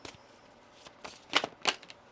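Tarot cards being shuffled by hand, a few quick riffling bursts, close and fairly quiet, with no talking.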